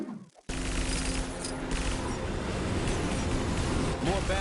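Blaster fire shooting down missiles in the video game Lego Marvel Super Heroes 2, starting abruptly after a short quiet moment and then holding as a loud continuous barrage of shots and rumble, with voices under it.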